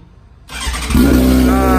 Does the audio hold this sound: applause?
no